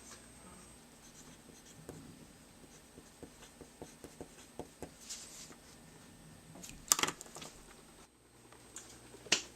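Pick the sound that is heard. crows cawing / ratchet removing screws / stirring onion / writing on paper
writing on paper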